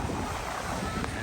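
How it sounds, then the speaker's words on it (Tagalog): Large sea waves at a beach where people are swimming, a steady broad wash of surf heard with wind buffeting the microphone, no clear individual crashes in the brief stretch. "Ang lakas ng alon"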